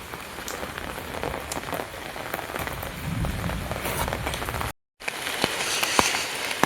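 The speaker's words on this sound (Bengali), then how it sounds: "আর এই যে বৃষ্টি হচ্ছে আমাদের।" Steady outdoor rain patters and hisses on surfaces throughout, with scattered closer drops. It cuts out briefly before resuming at the same even level.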